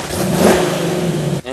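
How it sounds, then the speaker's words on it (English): A car engine revs loudly and close on a street in Yokosuka, Japan, early in the morning, in a short burst that cuts off abruptly. "Engines roar and rubber grips road"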